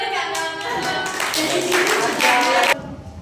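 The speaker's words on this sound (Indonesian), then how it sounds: "Kasih tepuk tangan di sini." Clapping by students in a classroom during an experiment lesson, a short burst of hand claps mixed with voices and tonal sounds, ending abruptly after under three seconds.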